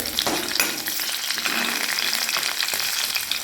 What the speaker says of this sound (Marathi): कडीपत्ता सुद्धा टाकून घेऊया थोडासा जिरा थोडीशी मोरी सुद्धा टाकून घ्यायचं